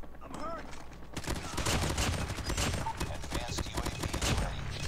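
Rapid gunfire from the Damascus AMAX in Call of Duty Mobile, dense bursts of shots at long range starting after a quiet second and continuing steadily, with voices talking underneath.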